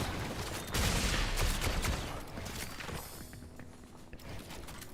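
Gunfire in a first-person shooter video game, a burst of rapid shots near the start followed by scattered softer shots and footsteps against a dense background.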